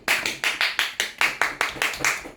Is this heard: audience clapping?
yes